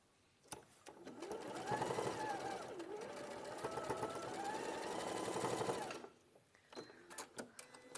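Sewing machine stitching fabric seams together: a steady, close mechanical whirring run of about five seconds with a rhythmic needle patter, framed by a few clicks and handling noises before and after.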